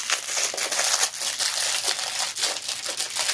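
Crisp plastic packaging around a Tangle fidget toy crinkles and crackles as it is pulled open by hand, with close, continuous rustling and sharp crunchy bursts and no talking.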